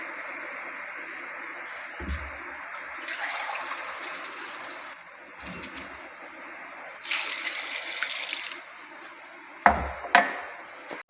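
Water splashes and trickles into a cooking pot of mutton trotters in a few separate pours, with soft clunks of the vessel and bursts of hissing flow between them.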